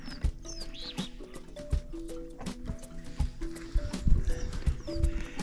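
A horse on a horseback safari in the Masai Mara, with hoof clops and snorting close by, mixed with birdsong and outdoor background noise.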